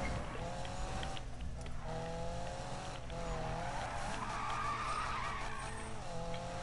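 Car skidding in a Gymkhana race in a racing video game: sustained tire squeal and engine drone with rising and falling revs, close and steady throughout.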